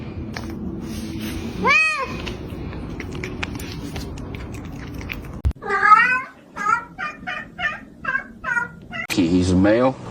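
A male cat lets out a drawn-out meow, then a series of short repeated meows and a final longer cry, close and fairly loud, with voices talking in between.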